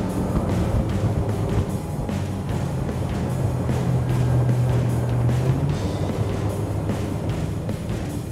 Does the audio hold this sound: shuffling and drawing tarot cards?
no